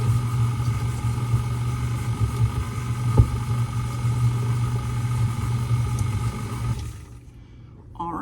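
A KitchenAid stand mixer churns scone dough with a steady, loud motor drone and rhythmic beater thumps, then cuts off near the end, leaving near silence.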